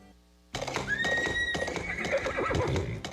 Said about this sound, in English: Let the power of the horse go to work for you.